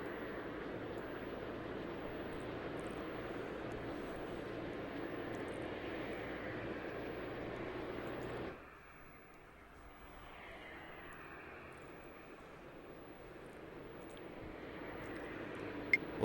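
Airliner taxiing at a Paris airport in the Tower 3D Pro game, a steady, moderately loud jet engine roar that cuts off abruptly midway, leaving a quieter, fainter hum that slowly builds again.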